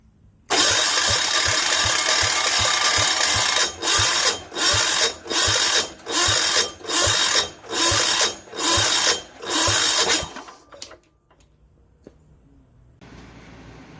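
A Yanmar L100 diesel generator is cranked over by its starter: a steady rapid churn, then a series of rhythmic surging bursts about every half second, before it winds down to near silence.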